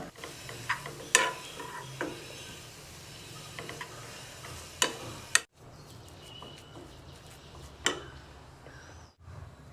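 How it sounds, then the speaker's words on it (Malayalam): Spoon stirring mashed potato filling for aloo paratha with chopped coriander, giving repeated scraping taps and soft mushy strokes against the bowl, close and moderately loud, with a brief pause partway through. "അതിലേക്ക് നമുക്ക് അരിഞ്ഞു വെച്ചിരിക്കുന്ന മല്ലിയിലയും കൂടെ ചേർത്തൊന്ന് നന്നായിട്ട് യോജിപ്പിച്ചെടുക്കുക"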